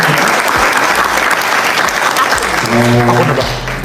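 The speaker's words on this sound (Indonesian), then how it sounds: "Boleh kasih tepuk tangan buat mereka." Sustained, loud audience applause fills a hall during a diaspora dialogue with a politician and Indonesian students in Duisburg, Germany, with a voice speaking over the clapping toward the end.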